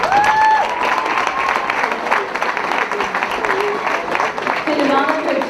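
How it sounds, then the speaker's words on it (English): Crowd applauding the players at a ladies junior Gaelic football championship final, loud steady clapping throughout with cheering and voices mixed in. "I'd like to give you a round of applause for that."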